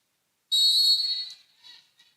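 A referee's whistle before a serve in a college volleyball match, one sharp, shrill blast lasting under a second and then trailing off, loud and clear over a quiet background.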